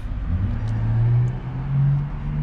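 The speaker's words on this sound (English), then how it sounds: "So now when I go to start the car, as you can see, now it turns on." A car's engine starting and idling right after an immobilizer code is entered, with a steady low rumble that swells and dips slightly, heard close and alone.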